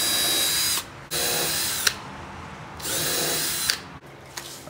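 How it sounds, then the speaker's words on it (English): A power drill runs a 1/8-inch bit through wood to bore a pilot hole, whirring steadily in three close, loud bursts separated by brief pauses and a short final burst. "1/8-inch drill bit, just enough to get me a pilot hole going, because I don't want to split the wood"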